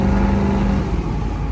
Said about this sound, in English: I don't know if you can hear the exhaust or not